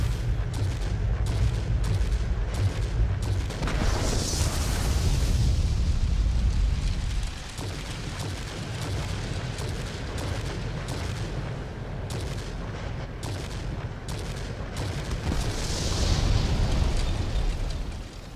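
Explosions from bombing an anti-aircraft emplacement in World of Warplanes, flown in a Messerschmitt Me P.1099 B-2 attack aircraft: heavy rumbling blasts over a constant engine drone, with rapid gunfire bursts.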